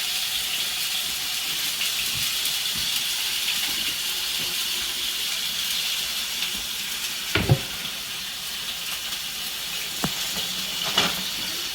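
A steak cooking in a pan gives a continuous loud, hissing sizzle with a few sharp pops and crackles scattered through it, close up and with no talking.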